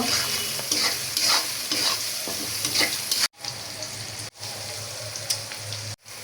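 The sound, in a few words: onions frying in oil, being stirred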